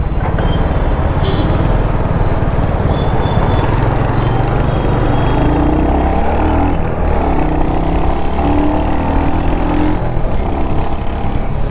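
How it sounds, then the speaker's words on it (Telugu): An RTC bus drives past on a road, a loud continuous rumble and roar of heavy engine and road noise that stays close and steady from start to finish, with no talking. "అదిరా అది ఆర్టీసీ బస్సు."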